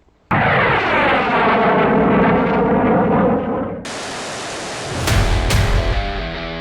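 A loud F-14 Tomcat fighter jet sound effect starts abruptly with a roaring engine and layered whine, then switches to a harsh, broadband blast with sharp surges near the end.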